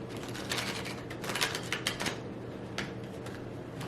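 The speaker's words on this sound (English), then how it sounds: "I used to be able with my last deck to shuffle like this more, which is my favorite way to shuffle" Crisp, irregular riffle bursts as a deck of tarot cards is shuffled close by, quiet clicking flurries with short pauses between them, no voices.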